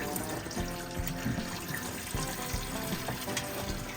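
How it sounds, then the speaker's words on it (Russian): Hitachi -50 coolant pours steadily into a car, a continuous close trickle and gurgle of liquid with no talking. "И все у нас тут аккуратненько льется."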